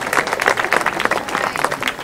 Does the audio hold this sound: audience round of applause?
yes